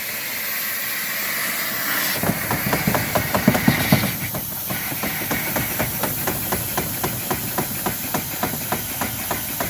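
A full-size 1870s steam locomotive replica warming up, with a loud continuous hiss of steam and a steady rapid mechanical chuffing beat that grows more regular as it runs.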